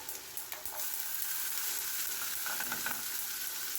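A fish fillet fries in butter in a pan, a steady close hiss of sizzling with a few sharp crackles and spatters near the start.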